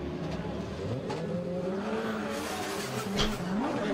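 A BMW E30 drift car is chased closely by a second car in competition, the engines roaring loudly and continuously while revving hard, with tire squeal and skidding running underneath.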